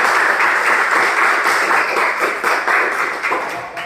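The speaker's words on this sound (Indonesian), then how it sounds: "Beri aplaus buat kelompok 1" Students in a classroom clap for group 1, a loud burst of dense applause that holds steady for several seconds before slowly tapering.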